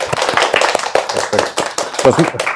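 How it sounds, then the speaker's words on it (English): An audience applauds a lecturer with a quick patter of claps, mixed with people talking over it. "So let's give an applause"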